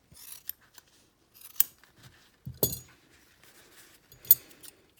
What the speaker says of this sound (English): this is where you can go ahead and trim up your tails